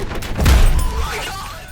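Stationary machine gun fire in a World War I video game, a muffled heavy burst swelling to a booming peak midway before trailing off, with faint game sounds underneath.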